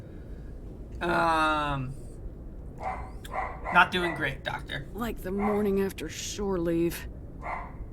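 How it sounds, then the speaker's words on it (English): A dog barks in a room behind a person speaking over game dialogue, a few sharp yips and barks scattered among the voices, fairly faint and partly buried under the talk. "Sorry about the dog barking in the background."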